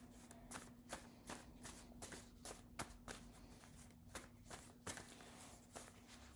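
Tarot cards are shuffled by hand in a steady run of soft, papery riffles and taps, close and quiet, with no talking over them.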